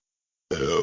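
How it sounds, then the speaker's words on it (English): A single short, low burp breaks a moment of silence, close and fairly quiet. "That was a very, very surprise burp"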